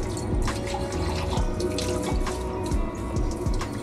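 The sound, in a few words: water streaming from WaterMax RO purifier tap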